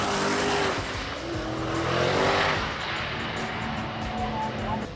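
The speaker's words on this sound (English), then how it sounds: "it was a Ford versus Holden final, with Ryan Holes in the Tirana up against Steve Smith in the Mustang" Ford and Holden drag race cars, a Torana and a Mustang, scream down the strip in a final, a loud roaring rush with tire squeal that swells and fades, with someone talking underneath.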